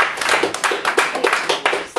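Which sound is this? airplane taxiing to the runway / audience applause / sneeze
audience applause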